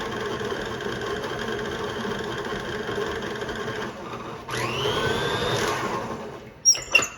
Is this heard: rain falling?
no